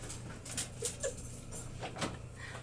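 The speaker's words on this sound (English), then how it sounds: "And apparently the puppies need to go outside." Puppies whimper and yip indoors while wanting to go outside, giving several short, thin whines in an uneven rhythm over a low hum, fairly faint.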